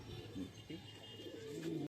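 A fantail pigeon coos in a close, low, throaty call, continuing steadily for a couple of seconds before cutting off abruptly.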